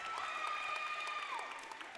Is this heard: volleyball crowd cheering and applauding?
yes